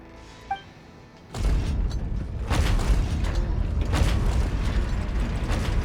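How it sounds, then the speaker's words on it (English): Many stone doors rising one after another in Genshin Impact, a sustained loud grinding rumble with creaks and mechanical clanks, after a brief quiet click. "That's a lot of doors. Whoa, they all just went up one by one."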